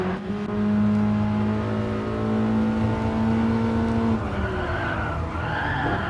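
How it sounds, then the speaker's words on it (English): A race car in a sim racing league game slides through a drift, its engine holding a steady droning tone while tire skid noise hisses underneath, then the pitch shifts and rises as the power comes back on. "You see Coolio drifting in the background."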